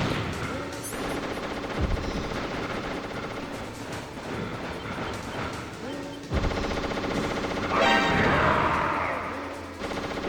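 Gunfire in the video game Metal Gear Solid, with repeated rapid shots and bursts layered over game music and effects, continuous and fairly loud through the whole stretch.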